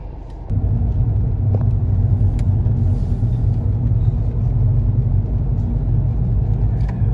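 Steady night road traffic in Kuala Lumpur heard from inside a moving car, a continuous loud low rumble of engine and tyres with a few faint clicks, no talking.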